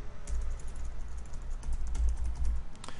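A computer keyboard clatters with steady, rapid keystrokes as a project name is entered, close and continuous throughout.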